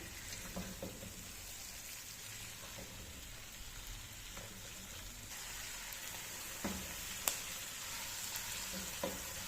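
Chicken with green chillies and spices is stirred and fried in a pan, giving a soft, continuous sizzle. Occasional light scrapes and taps of the stirring utensil sound throughout, with no talking.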